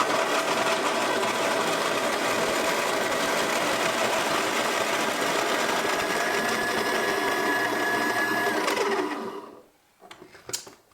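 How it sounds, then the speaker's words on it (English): An Encore burr coffee grinder set to medium, about 20, grinds beans with a steady whirring motor drone for about nine seconds, then winds down and stops, leaving a few faint clinks. "Next I'm going to put them in our grinder. And I've set the grinder for a medium, which on this Encore is about 20."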